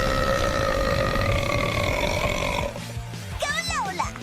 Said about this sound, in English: Biggest burp!